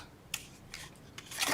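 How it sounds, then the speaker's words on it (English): Scissors snipping along the score line of a paper-craft photo album piece, several short crisp cuts at irregular intervals, close and fairly quiet, ending in a longer cut. "I'm gonna go ahead and cut up the score line"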